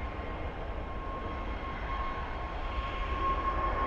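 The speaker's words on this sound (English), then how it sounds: "And another British Airways plane taking off." A British Airways plane takes off near Custom House in London, a steady, broad engine roar heard from a distance without a break, with no speech over it.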